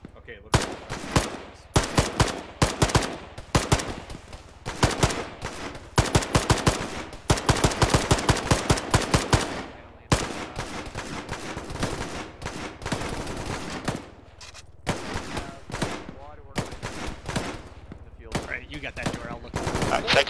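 Dense bursts of machine-gun and rifle fire in a military video game, rapid strings of loud shots with short pauses, sustained heavy fusillade throughout with radio-style chatter underneath.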